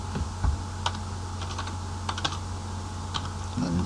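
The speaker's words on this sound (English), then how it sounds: "let's come in here and type text" Keys tapped on a computer keyboard while entering text for a Python quiz game, giving scattered close clicks in short irregular bursts over a steady low room hum.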